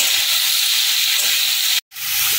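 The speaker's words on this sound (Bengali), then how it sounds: "একটু নাড়তে নাড়তে নরম করে নেব।" Mixed vegetables for niramish labra, potato, pumpkin, brinjal and pointed gourd, fry and are stirred in a pan, producing a loud continuous hissing sizzle that cuts out abruptly near the end before resuming.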